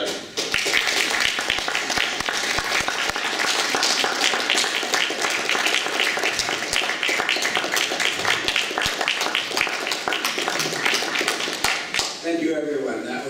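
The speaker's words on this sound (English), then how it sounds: "we'll give you a virtual standing applause by here in the room and everybody outside." A roomful of people gives a standing ovation at a retirement ceremony, a loud, dense wash of clapping that runs on without pause, with shuffling and scattered voices mixed in before it thins out at the end.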